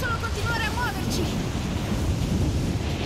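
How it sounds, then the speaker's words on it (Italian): A strong mountain wind in the video game Rise of the Tomb Raider roars steadily throughout, with a few thin whistling tones near the start. "C'è un vento fortissimo."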